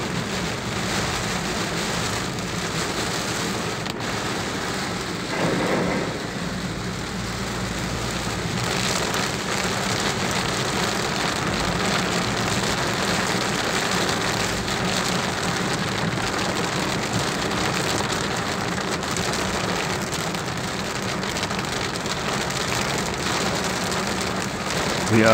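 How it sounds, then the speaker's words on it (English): Heavy rain pours steadily onto a big city road in Jakarta, a dense continuous roar of drops on the surface with faint traffic underneath, loud and unbroken throughout. "big rain."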